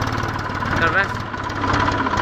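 A tractor engine chugs slowly on a farm, its low, steady throb running throughout while people talk over it.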